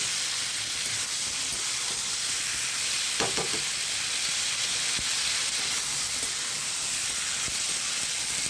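Spiced water hits a pan of frying prawn curry masala with aubergine and potato, giving a steady broadband sizzle and hiss throughout, with a brief louder burst of bubbling and stirring near the middle.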